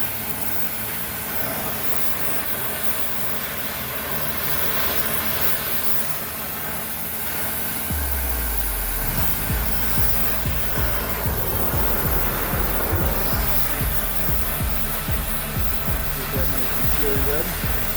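A torch heats a bolt so it can be bent, giving a steady, close roaring hiss that continues throughout, with a voice talking over it during the second half.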